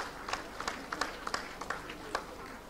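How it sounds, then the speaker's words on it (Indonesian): Scattered hand claps from an audience at a Malay-Islamic world award ceremony, sparse and uneven rather than a full ovation, fairly faint and distant. "Boleh tepuk tangan."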